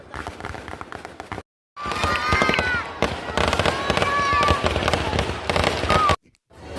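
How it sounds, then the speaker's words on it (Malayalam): Festival fireworks go off in rapid overlapping bursts and crackles with whistling rockets rising, loud and continuous apart from two short silent gaps, with crowd noise beneath. "പിന്നെ കുറച്ചൊക്കെ നേരം ഇരുന്നപ്പോൾ വെടിക്കെട്ട് സ്റ്റാർട്ട് ചെയ്തു"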